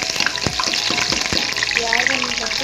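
Onions hiss and crackle loudly in a cup of hot oil, with sharp spattering pops and several clanks of a spoon stirring the pan.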